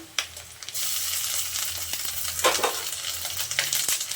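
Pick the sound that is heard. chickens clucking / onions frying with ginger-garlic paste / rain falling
onions frying with ginger-garlic paste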